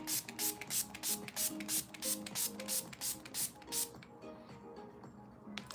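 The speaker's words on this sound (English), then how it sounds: "Now let's spray our face." Setting spray misted onto a face over powder makeup in a celebrity-style makeup transformation, heard as a rapid run of about a dozen short, close, hissing pumps in steady rhythm, then the spraying stops and faint room noise remains.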